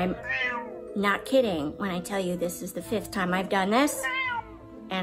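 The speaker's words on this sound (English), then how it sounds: "That's my cat" A house cat meows repeatedly up close, drawn-out wavering calls that rise and fall, while a person speaks at the same time.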